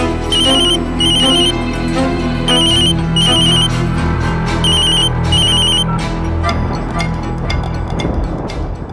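A telephone rings in repeated bursts of bright electronic trilling over a dense musical soundtrack, loud and continuous.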